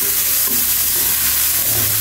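Carrots stir-fried in oil in a pan, a steady close sizzle with faint scraping of stirring running continuously through the short stretch.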